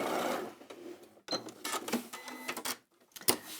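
An Elna 864 overlocker stitches fabric in short mechanical bursts, a close whirring and clattering that starts and stops several times.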